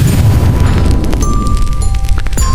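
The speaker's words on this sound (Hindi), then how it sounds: "एक जोरदार विस्फोट।" A loud, rumbling explosion sound effect with a heavy low boom and crackling debris fills the whole stretch, set in a dramatized horror story.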